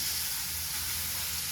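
Carrots hiss loudly in hot ghee, a dense, even sizzle heard up close without any talking.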